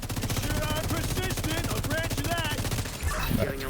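Dense rapid machine-gun fire crackles in a video game firefight, loud and continuous, with a heavier thump near the end and voices speaking over it.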